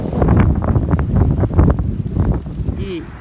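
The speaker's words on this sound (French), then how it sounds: "on a droit à une bonne journée de vent du printemps" Cool spring wind gusts against an outdoor microphone, producing loud, close buffeting rumbles that come in uneven bursts.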